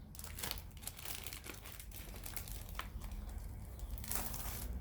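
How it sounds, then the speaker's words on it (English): A plastic parts bag for Suzuki GT750 engine components is handled and sealed, giving a quiet, close, continuous crinkling with a few sharper rustles. "Put it all in the bag."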